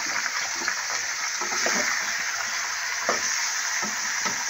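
About a kilogram of washed chicken frying in a pan with cumin, a busy, loud sizzle with bubbling and splattery crackles and occasional stirring scrapes, close and continuous with no talking.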